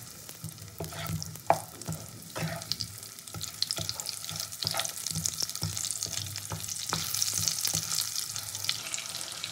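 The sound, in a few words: potatoes frying and being stirred in oil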